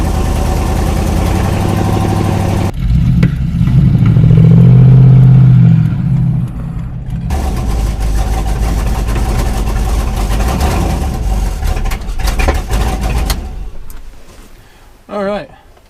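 A junkyard LS V8 with an eBay cam in a Chevy S10 drag truck, loud and close, idling with a lopey rumble and rising in revs at points, with people talking over it.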